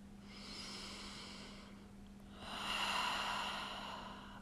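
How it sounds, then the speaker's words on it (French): Slow, deep breathing during a yoga session: one long inhale, a short pause, then a longer, louder exhale through the nose, close and alone against a low steady hum. "Prenez le temps d'inspirer et d'expirer"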